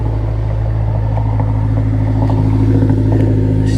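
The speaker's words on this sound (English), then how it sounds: "Let's come listen to this exhaust." A car's exhaust runs loudly up close with a deep steady rumble and slight gurgle, rising a little as the engine is revved, with no voices.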